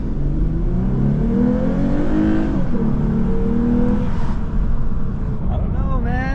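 A Lexus IS sedan accelerates hard from inside the cabin, engine and exhaust climbing through gears with rising whine and a shift dip, loud and close, while a person talks over it.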